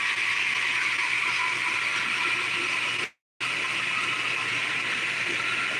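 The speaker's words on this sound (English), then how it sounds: "See how much water is coming out?" Water gushes forcefully out of a pipe in a loud, steady broadband rush that cuts out briefly partway through and then resumes, with no one speaking.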